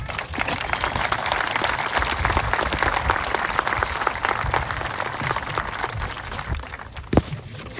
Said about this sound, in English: If we could have a round of applause for them as well.